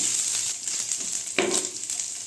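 Coconut pieces frying in ghee, a steady close sizzle and crackle with a brief stirring scrape partway through.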